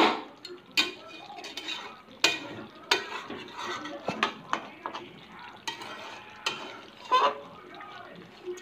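Masala is stirred and fried in a pan, partly covered between stirs, giving a run of scraping spoon strokes and clinks against the metal over a soft sizzle, close and intermittent.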